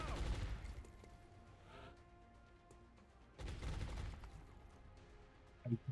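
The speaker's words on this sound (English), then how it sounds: "Incoming fire." Bursts of gunfire ring out in the strategy video game XCOM Long War, first a loud burst, then a pause with a soft voice line and a second fusillade, ending in a couple of sharp cracks.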